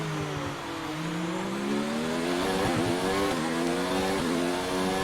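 F1 race cars in F1 2019 screaming past on the run to the finish line, loud high-revving engines rising and falling in pitch as several cars pass close by.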